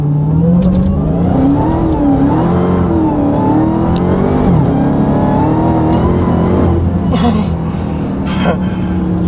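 A 797-horsepower 2021 Dodge Charger SRT Hellcat Redeye Widebody launches from a standstill with launch control, its supercharged engine roaring and climbing through the gears up close and loud, while a person gasps and exclaims over it.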